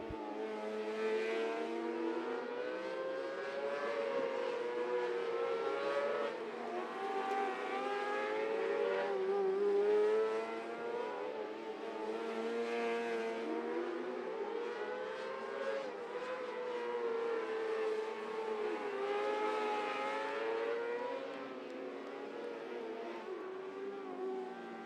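600 mini sprint race cars in a heat race, engines droning and revving steadily as the pack circles the track, loud and continuous without a break.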